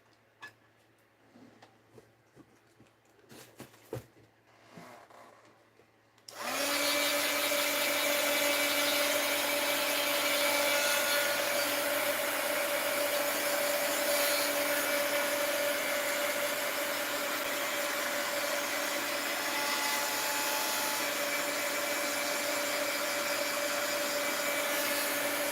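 Heat gun switched on to dry paint on an art journal page, a steady loud whooshing blower hum that starts abruptly after a few quiet moments and runs on without a break.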